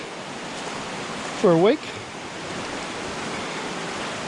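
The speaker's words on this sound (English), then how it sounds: "that was Potoroo Falls in semi-flood conditions" Potoroo Falls in semi-flood, a steady broadband roar of rushing water that fills the whole clip, with a brief voice cutting in near the middle.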